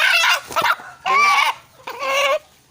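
An eight-month-old young chicken of a newly bred strain clucks in three close, loud, separate bursts, with quiet gaps between calls and no talking.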